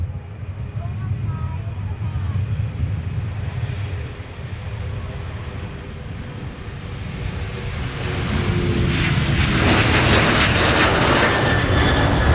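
A Gopher-callsign airliner takes off from Minneapolis–Saint Paul airport, its steady engine roar swelling louder toward the end, with voices talking over it throughout.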